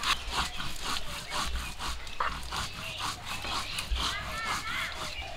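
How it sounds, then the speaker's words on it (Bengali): Cumin seeds are ground on a grinding stone in a home kitchen, making a repeated rough rubbing and scraping stroke in a steady back-and-forth rhythm, close and moderately loud. "জিরে বেটে নেব।"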